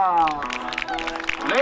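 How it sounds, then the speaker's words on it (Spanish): A rodeo festival crowd applauds the winner, Gringo Flores, with a steady patter of clapping under an announcer's loud voice. "fuerte el aplauso"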